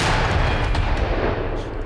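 Artillery gun of the Azov brigade firing, a heavy sustained boom with broad rumbling noise filling the whole short moment, loud and close, no voices over it.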